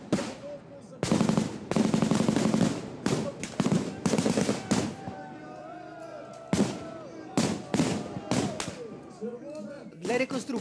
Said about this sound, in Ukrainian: Бій починається з невеликої перестрілки.